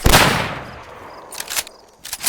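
A loud gunshot in the video game DayZ bursts out and rings off, followed by a few more sharp shots, close and punchy, with no talking.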